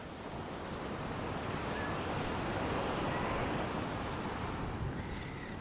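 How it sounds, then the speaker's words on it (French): Ocean surf rolls steadily onto a cold, windy beach at Assateague Island, a continuous broad wash of waves mixed with wind buffeting the microphone, with no voices. "L'océan!"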